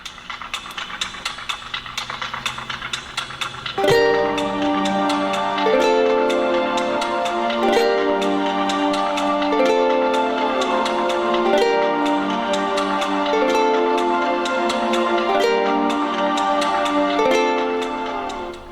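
Bright plucked ukulele notes ring out in a steady, repeating pattern from the intro of a song, opening with a strummed chord after a few quiet seconds of light tapping.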